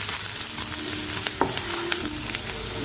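Ginger and garlic fry in a pan with a dense, continuous close sizzle and crackle, with a few scraping stirs along the way.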